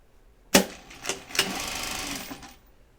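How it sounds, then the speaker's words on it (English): A sewing machine stitches a tote bag in one steady run of about two seconds, beginning with a sharp start and carrying on as a close, even, rapid mechanical whir. "This is pretty quick to sew, honestly."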